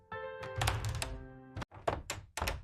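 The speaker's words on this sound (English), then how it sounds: "I open the door." A door opening, heard as a few dry knocking thunks with a short tonal ring in between, close and fairly quiet with short gaps of silence.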